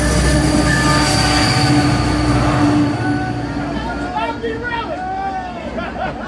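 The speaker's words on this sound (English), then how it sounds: "Okay, so this is the train that derailed. They're about to go by us." White Pass Railway excursion train near Skagway, Alaska, a train that had derailed earlier, rolls past at close range with a loud steady rumble of rail cars and drawn-out metallic wheel squeals rising in the second half.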